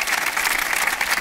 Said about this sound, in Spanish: Pido un gran aplauso para todos ellos